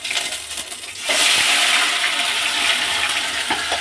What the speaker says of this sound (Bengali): আদা রসুন টমেটো পেঁয়াজ আমি এখন দিয়ে দিলাম তেলের